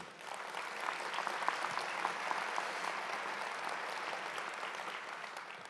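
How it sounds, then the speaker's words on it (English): Steady applause from a large conference audience fills a keynote hall, a dense wash of many hands clapping at an even level throughout without talk. "Give yourselves a round of applause because this is an amazing room."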